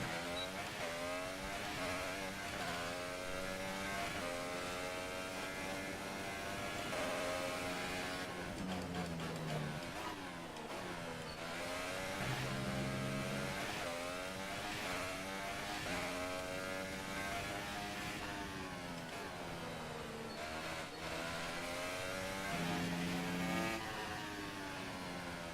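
Racing car engine in an F1 video game at the Austrian Grand Prix, a loud continuous high-pitched whine that climbs through the gears, with quick pitch drops at shifts and under braking, then surging again.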